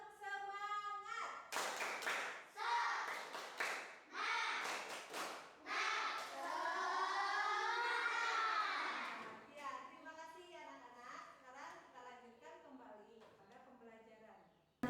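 A primary school class doing a rhythmic spirit clap, bursts of patterned hand claps alternating with children chanting together in unison, lively and close.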